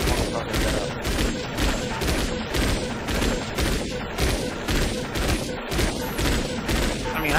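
Video game combat with gunfire and rockets, a dense, loud, continuous barrage of shots and blasts in a steady pulsing rhythm filling the whole stretch.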